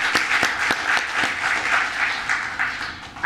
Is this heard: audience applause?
yes